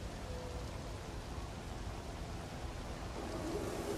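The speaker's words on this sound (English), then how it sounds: "The rain is falling for the start of today's practice session" Rain falls steadily during a practice session at the Singapore circuit in the F1 2017 video game, a faint, even hiss of downpour with no distinct drops standing out.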